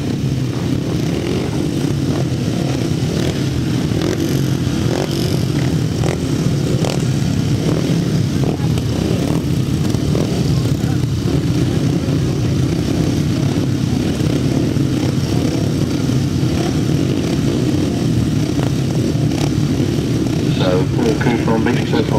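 Several 500cc solo grasstrack motorcycles race in a 2007 memorial meeting final, their engines forming a continuous loud droning roar, with a voice talking over it.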